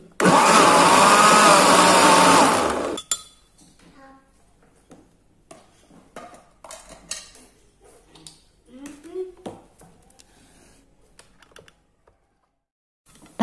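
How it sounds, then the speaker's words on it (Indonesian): An electric blender grinds tomato and chili sambal paste without added water, a loud dense whir lasting about three seconds before cutting off, followed by quieter kitchen clatter and handling. "Saat memblender bumbu ini, kita tidak perlu menambahkan air."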